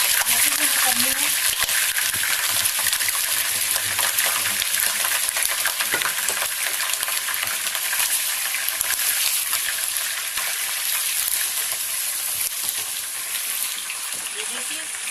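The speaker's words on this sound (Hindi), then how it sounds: "हमारा ऑयल हो चुका है, हमें अब इसमें चिकन ऐड करनी है।" Chicken sizzles steadily in hot oil, a dense, even crackling hiss that runs the whole time with faint kitchen clatter beneath it.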